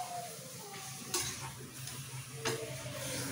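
Mutton hits a hot pan and sizzles quietly in a home kitchen, a soft steady frying hiss with a few light clicks and taps of utensils, no talk over it.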